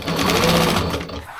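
A sewing machine stitches a Lambretta wheel cover, a fast close mechanical whirr of rapid needle strokes that runs steadily for about a second before cutting off.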